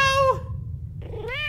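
Two distinct cat meows separated by a brief pause, loud and near, over a low droning hum, from a cat left outside in the horror video game Nightmare of Decay.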